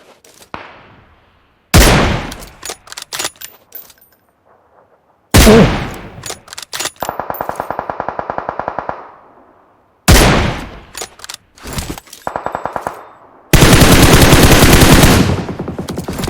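Gunfire in the PUBG battle-royale game, loud close bursts of rapid automatic fire and single shots in several volleys separated by short pauses, with sustained machine-gun rattles, no talking.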